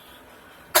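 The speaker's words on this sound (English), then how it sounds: "I'm sorry, I don't know why I'm coughing a lot." A single short, sharp cough bursts out at the very end after near silence, loud and close.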